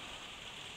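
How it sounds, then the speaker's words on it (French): Steady rain pattering on a veranda roof, a constant soft hiss heard alone for under a second. "là il pleut dans ma véranda et t'as peut-être entendu"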